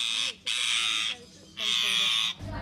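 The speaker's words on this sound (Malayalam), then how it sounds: "സുലൈമാൻ നല്ല ഒച്ചയൊക്കെ ഉണ്ടാക്കുന്നുണ്ട്." A pet parrot at a pet shop gives two loud, harsh, drawn-out squawks close by, each lasting nearly a second, with a short gap between them.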